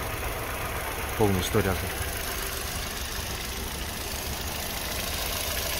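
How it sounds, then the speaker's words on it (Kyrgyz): A car engine idles steadily at a moderate level while a person speaks briefly near the start. "Мотордун иштеши жакшы."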